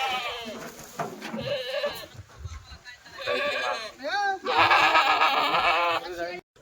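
Kathiyawadi goats bleat again and again, loud and close, their wavering calls overlapping with someone talking nearby.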